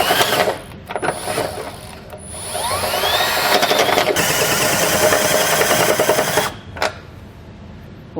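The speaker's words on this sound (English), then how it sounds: "I'm going to use a step bit" A drill fitted with a step bit enlarges a hole in the frame of a 2016 Kia Optima for a Curt trailer hitch. Close, loud whirring and grinding runs in bursts, separated by brief pauses.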